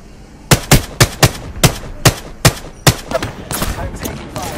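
Rapid bursts of gunfire in the Apex Legends battle royale at King's Canyon after dark, about a dozen sharp, loud shots in quick succession followed by denser overlapping fire.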